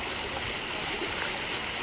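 Water feature fountain inside a shopping mall in Luton splashing steadily, a continuous close wash of falling water with no break, no voices.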